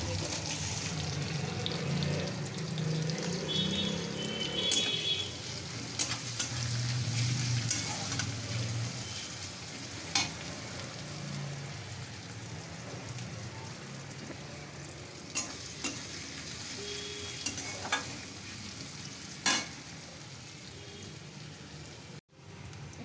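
Garlic paste frying in oil with onions in a pan, a faint continuous sizzle with occasional stirring clicks and a brief knock near the end, heard at a distance.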